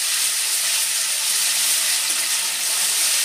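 Onion, ginger and garlic paste frying in a pan, a steady, loud sizzle with a bright hiss that holds evenly throughout, with no voices over it.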